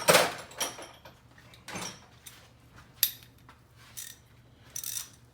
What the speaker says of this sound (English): T50 Torx bit to take this off.